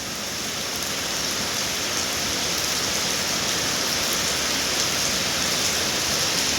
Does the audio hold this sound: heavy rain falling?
yes